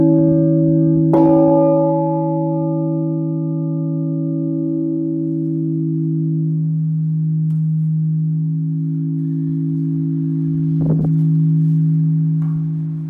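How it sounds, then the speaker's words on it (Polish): A hand-rung church bell in the tower of the cathedral in Gliwice strikes loudly near the start, then hums with a long, steady sustain, and a second strike lands near the end. "Widzicie, trochę drga to wszystko, bo tutaj ręcznie dzwonię."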